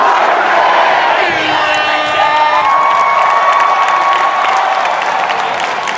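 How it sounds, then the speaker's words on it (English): A convention crowd screams a chant together, then breaks into loud cheering, whoops and applause that fill the space steadily and close up. "I want you guys to stand up and scream, I'm worth it."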